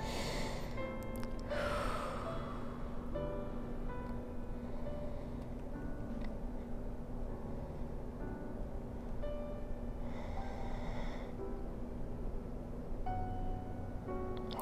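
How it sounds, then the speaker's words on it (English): Deep breathing during a ballet stretching routine: a few slow, audible inhales and exhales, near and soft, spread over a quiet room with steady background hum. "Deep breaths."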